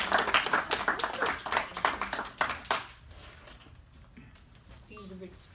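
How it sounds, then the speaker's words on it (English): Audience applause at a think tank event in New York, a short burst of crisp hand claps that stops after about three seconds, followed by a quiet room and a brief voice. "Let me introduce with your round of applause Bukhari"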